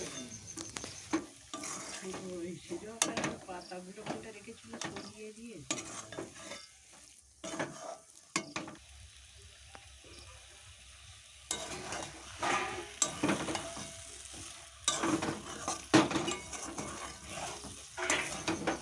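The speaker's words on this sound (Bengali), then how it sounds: "সব কটা গুঁড়ো মশলা ভালো করে মিশিয়ে নিচ্ছি মিশিয়ে বেশ কিছুক্ষণ ধরে কষিয়ে নেবো" Spiced banana flower mixture being stirred and sautéed in a pan, with repeated spoon scrapes and clinks over a steady sizzle through most of the stretch, loudest in short bursts near the end.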